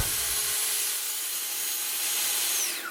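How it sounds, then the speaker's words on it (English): A track saw slices through a wooden trapezoid-shaped end tabletop, a loud, steady high-pitched cutting whine running nearly the whole time and tapering off as the blade finishes the angled cut. "The track saw is perfect for cutting angles on the trapezoid-shaped top."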